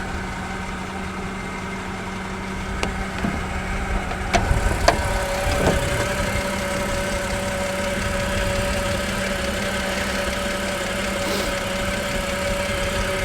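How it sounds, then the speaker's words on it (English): A car engine idles steadily with a thin, constant whine from the power steering pump running over the low rumble, joined briefly by a few clunks and knocks from under the open hood. "It does sound like it's power steering pump whining, though."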